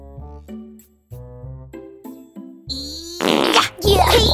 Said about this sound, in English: Let's find out whose fart is the worst.